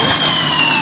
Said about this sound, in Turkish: Ya çok hızlı geldi bu itfaiye arabası